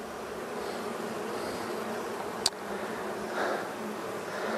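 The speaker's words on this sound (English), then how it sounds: "There's a lot of bees here." Honey bees buzz in a dense, steady hum around a hive frame holding pollen and brood, fairly faint and continuous with one brief click midway.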